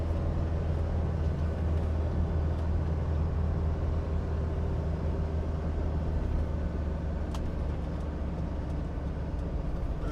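Mercedes-Benz W123 200D with the 615 diesel engine and manual gearbox, driving on an open road; a steady, loud low drone of engine and road rumble runs unbroken throughout, with no talk.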